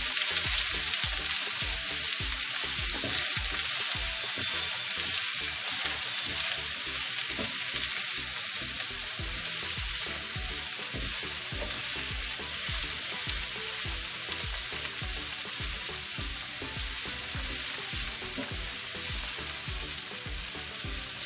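Eggplant pieces frying with curry leaves in a pan make a loud, unbroken sizzle with a crackling texture that runs steadily throughout.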